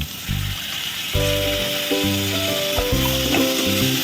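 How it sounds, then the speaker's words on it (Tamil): Onions and tomatoes sautéing in a pan for channa masala give a steady, close sizzle, with faint tonal ringing over the top and no talk. "இதோட போட்டு நல்லா வதக்கிக்கணும்"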